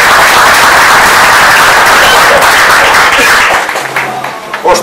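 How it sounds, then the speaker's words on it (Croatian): Loud, dense applause from an audience at the opening of a memorial chess tournament in Pljevlja, sustained for several seconds before thinning into scattered claps. "Molim vas ja veliki aplauz."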